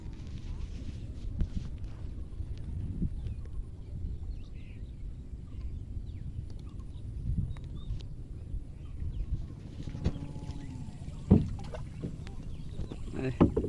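Quiet water sloshing and creaking of a small rowboat crossing the Bangali River in Bangladesh, with low murmuring voices and occasional knocks near the end.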